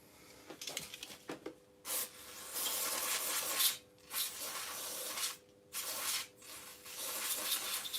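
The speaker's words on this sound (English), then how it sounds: "give it an agitation with a toothbrush" A toothbrush scrubs cleaner into a surface in repeated bursts of rough, hissing bristle friction, close and fairly loud, with brief pauses between strokes.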